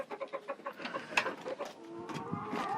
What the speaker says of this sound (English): He's a good rooster.